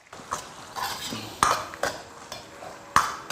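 Metal utensils scrape and clank against a wok while spices and chili bean sauce, including Laoganma fermented black bean chili sauce, are stir-fried in a little oil, giving sharp, irregular clacks over a faint sizzle.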